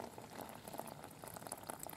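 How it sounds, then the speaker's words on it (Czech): Water is poured into a pouch of dehydrated Travellunch yogurt, giving a steady bubbling, gurgling liquid rush that runs continuously at close range with no talking. "Tak, mám do něj nalít 100 až 125 ml vody."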